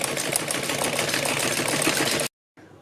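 A sewing machine stitches around a buckram-lined neckline, its steady whirring drone running unbroken for a couple of seconds before stopping abruptly, leaving a brief faint hum.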